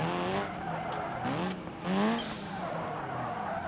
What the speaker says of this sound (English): It drifts just fine.